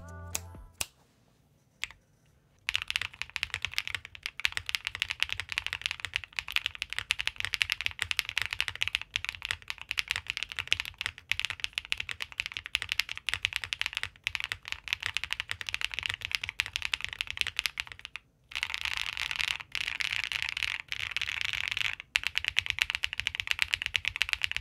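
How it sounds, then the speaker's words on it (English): TSIC switches are typed on a plateless QK75N keyboard with GMK Stargaze keycaps: a close, continuous run of quick, crisp keystrokes after a short quiet start, with one brief pause partway through. "Let's take a listen to these switches in a build that's not total unobtainium"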